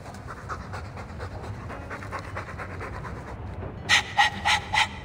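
Dog panting in Dragon Age II: steady, rapid heavy breaths under a low rumble of game ambience, with several louder, sharper pants close up near the end.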